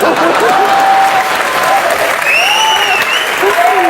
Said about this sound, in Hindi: एक बार अक्षय बाजी और निमरत के लिए जोरदार तालियां